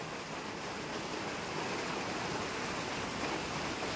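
Heavy typhoon rain from Kristine pours down steadily in Lopez, Quezon, Philippines, a dense, even hiss that holds constant and loud throughout with no voices.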